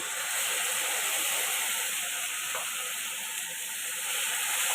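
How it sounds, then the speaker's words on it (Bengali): Spice pastes frying in plenty of hot oil in a pan with paneer, a loud, steady hiss and sizzle close by that continues unbroken with no voices. "এখন পেস্টগুলো দিয়ে দিব, এটা ভাজা ভাজা হয়ে আসছে।"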